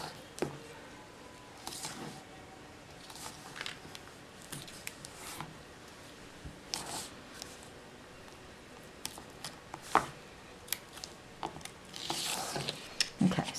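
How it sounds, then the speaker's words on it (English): Tear tape pressed and rubbed onto the edge of a handmade paper flap card, giving quiet, sporadic crinkling, peeling and rubbing sounds scattered through a near-silent room. "So we're going to go ahead and put some tear tape on this edge right here."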